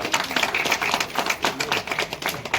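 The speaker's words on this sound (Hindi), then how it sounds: "एक बार जोरदार तालियों के साथ" A crowd claps at a village political rally in Haryana, a fairly dense, continuous patter of hands slightly muffled and mid-distance, with no speech over it.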